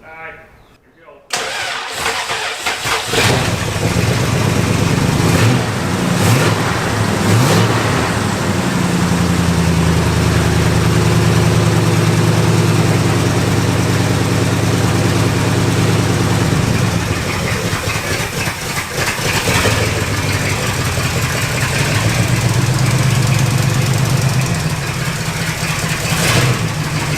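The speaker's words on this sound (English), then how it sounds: "drop it down into neutral, let her idle for a little bit, and then go ahead and throw it in gear" Abandoned Mopar car, unrun for over 20 years, fires up and settles into a loud, steady idle before being dropped into gear, the engine note shifting slightly; people talk over it throughout.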